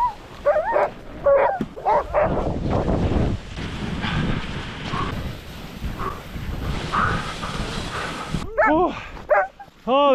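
Sled dogs on a frozen Arctic river bark, yip and whimper in excited bursts close by, with wind buffeting the microphone and someone speaking between the cries.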